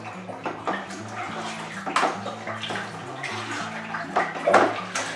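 Raspberry wine must stirred in a homebrew vessel, a watery sloshing and swirling with intermittent splashes over a steady low hum, close and moderately quiet.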